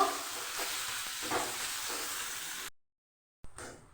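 Potato filling for puri sizzles and hisses in a wok as it is stirred, a steady frying noise that cuts out abruptly and briefly resumes.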